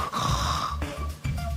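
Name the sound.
voice imitating loud snoring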